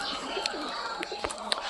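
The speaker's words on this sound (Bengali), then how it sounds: "এই সাইডেও তো প্রচুর পায়রা রয়েছে" Pigeons in a loft of cages coo softly in short, low calls, with a person talking over them.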